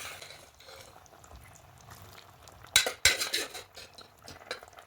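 A spoon scrapes and clinks against a metal pot while a thick misal mixture with cooked moth beans is stirred, with a few sharp knocks near the middle, close and fairly quiet.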